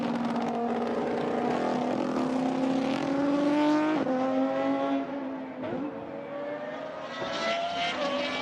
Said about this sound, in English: Great noise on the overrun from the Essenza SC V12.